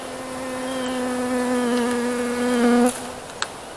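Honeybee colony from a hive built inside a deer feeder, buzzing steadily and loudly up close with a strong droning hum, then cutting off abruptly near the end.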